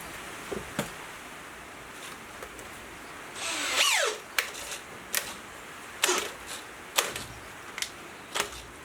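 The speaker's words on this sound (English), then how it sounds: "I think my drill just doesn't have the power to split this apart" A powerful power drill strains against a block of wood with a crack near its edge, trying to split it apart, giving a rising whine near the middle and several short sharp cracking or clicking bursts spread through an otherwise quiet stretch.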